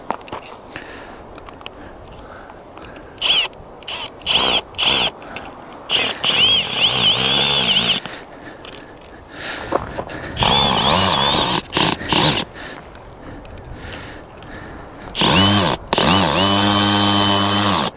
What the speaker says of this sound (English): So let's start with the regular drill I had last time.